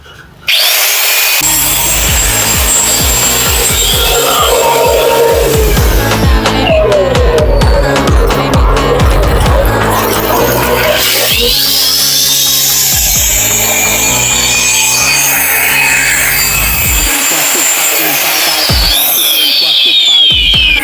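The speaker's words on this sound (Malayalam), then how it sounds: "ഇത് നമുക്കൊന്ന് വെള്ളത്തിലിട്ട് നോക്കാം" A DYK 4-inch, 1650-watt heavy-duty marble cutter running in water whines loudly and steadily, its pitch dipping and rising as it bites into material, with splashing and grinding throughout and brief pauses.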